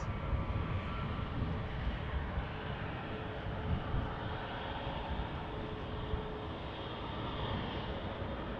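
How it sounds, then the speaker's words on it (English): Distant steady roar of an Airbus A321neo jet at Amsterdam Schiphol Airport after a storm, a broad continuous engine rumble heard faintly and unchanging over several seconds. "A321 Neo going to Atirau"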